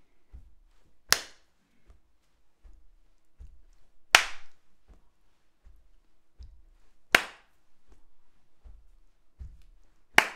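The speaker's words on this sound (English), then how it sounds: "three. One and three" Hands clap on beats one and three in a singing exercise: bright, sharp claps recur about every three seconds, separated by quieter dull taps that keep the pulse, with no voices over them.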